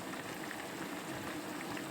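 Chicken curry bubbles in a pot, a quiet, even simmering fizz with soft popping that continues without pause and without any voices.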